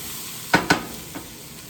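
Homemade three-bean chili stirred in a pot with two quick spoon scrapes close together and a softer third scrape after a short pause, over a faint low simmer, no voices.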